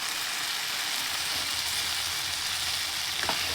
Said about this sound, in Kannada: ಇವಾಗ ಮಿಕ್ಸ್ ಮಾಡ್ಕೋಬೇಕು ನೋಡಿರಿ ಎಲ್ಲದು